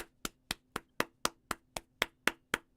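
Hands clap about eleven times in an even, steady rhythm of roughly four claps a second, quiet and close, with nothing else heard.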